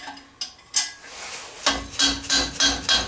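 An impact wrench tightens a wastegate bolt, with a few sharp knocks followed by a close run of rapid, evenly spaced hammering bursts.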